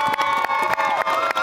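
A crowd at a community event cheers loudly, with shouting voices, some high and childlike, layered over clapping in a dense, lively roar that pulses with brief dips.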